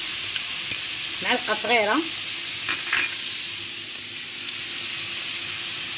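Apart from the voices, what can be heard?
kofta meatballs frying with spices in a pan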